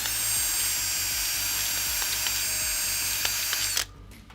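A steady, loud mechanical whir from a power drill used while building a Voron 2.4 3D printer, with faint ratcheting clicks through it, runs continuously and then cuts off abruptly near the end.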